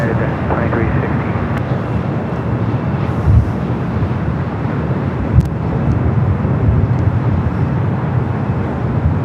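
A Boeing 777-300ER arriving at Los Angeles airport from Auckland, a steady deep jet roar that fills the whole stretch, heard outdoors with wind buffeting the microphone.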